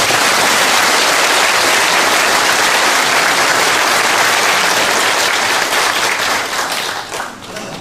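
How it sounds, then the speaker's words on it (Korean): Loud, dense applause from a large crowd honouring a veteran of the Korean and Vietnam wars, a sustained roar of clapping close up that holds strong for several seconds and then thins out near the end. "한 번 더 박수를 보내주십니다."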